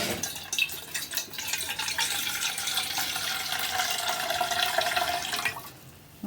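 Water poured into a cooking pot for boiling raw mangoes, a continuous close splashing, gurgling stream lasting several seconds before stopping abruptly, with no talk.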